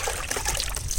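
Water poured over a person's head during a home bath: a brief, close rush of trickling and splashing liquid, continuous and noisy for about a second.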